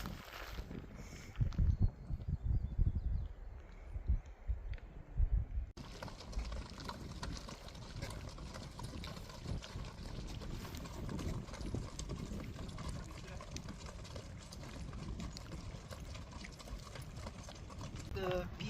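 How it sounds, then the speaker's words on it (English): Hooves of a packed mule train clip-clopping along a wilderness trail near Thousand Island Lakes, steady and fairly close, with rustling and faint background chatter. "there's also a mule train, or a horse train, probably mules"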